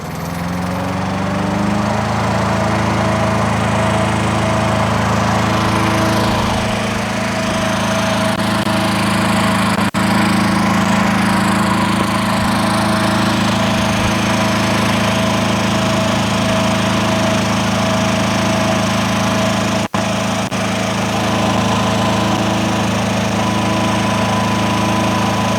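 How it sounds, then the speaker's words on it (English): A Spimerica Palazzani TZX 550 55 ft compact tracked spider lift running its outriggers down, a loud, steady engine and hydraulic drone that keeps a constant pitch for the whole stretch, close by with no talk. "And then we're going to go ahead and run the outriggers down."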